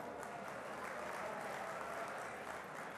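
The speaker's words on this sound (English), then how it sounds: "A big round of applause, everybody." Audience applause at a graduation ceremony after a speech, a steady wash of many hands clapping, even and sustained throughout without spoken words.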